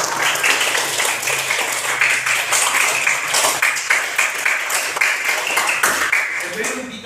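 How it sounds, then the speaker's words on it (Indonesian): A classroom of pupils claps together, a sustained, fairly loud patter of many small hands with a faint voice murmuring underneath near the end. "Boleh Bapak minta tepuk tangan lagi?"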